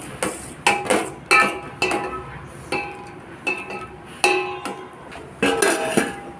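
A metal lid comes off a pot of simmering curry, a spoon scrapes and stirs inside, and the lid clanks back down, a series of close, bright metallic knocks and clinks spaced a second or so apart.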